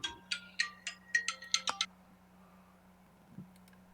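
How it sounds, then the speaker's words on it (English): A default phone ringtone plays a quick run of bright electronic chiming notes, then cuts off, leaving a low steady hum. "It's mostly just the default ringtone"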